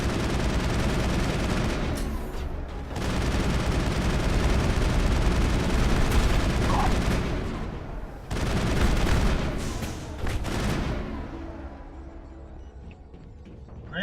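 Sustained rapid gunfire during a shootout in Mass Effect, dense overlapping shots and booms with brief gaps, loud and close, a faint voice underneath.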